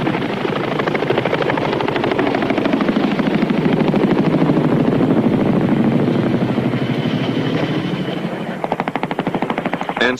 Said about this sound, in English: the Cobra helicopters of the 11th U.S. Armored Cavalry patrol the inter-German border